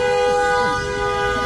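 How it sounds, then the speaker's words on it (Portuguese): Car horns honk amid the din of a street protest in Nova Cruz against the water utility CAERN, a steady sustained blare with crowd noise throughout and no clear talk. "Olha o buzinaço aí, olha aí, ó."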